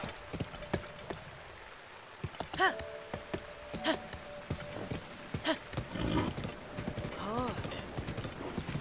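A horse in the Zelda game Breath of the Wild clip-clops along with steady hoofbeats while a short neigh rises midway and a second whinny follows near the end, with a low tone and a voice at times in the background.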